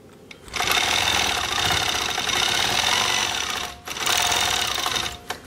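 A sewing machine runs close and steady, stitching in the ditch on Dear Jane quilt blocks, in two sustained bursts of rapid whirring broken by a short stop, with no voices.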